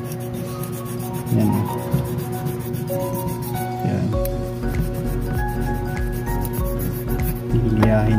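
Sandpaper rubs back and forth on a stainless steel watch case, a close, raspy scraping in uneven strokes, with someone speaking briefly over it and a steady hum beneath.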